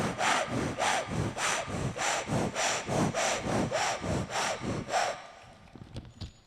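A voice imitating a saw cutting through a tree, about ten rhythmic rasping back-and-forth strokes, loud and close, which then fade into quieter scraps of sound.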